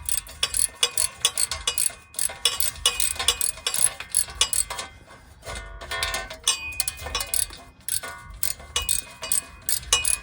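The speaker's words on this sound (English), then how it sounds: "I got a couple ratchets in my bag." A cheap ratchet wrench clicks rapidly and loudly in bursts at a junkyard, its pawl ratcheting in quick repeated strokes with brief pauses between them.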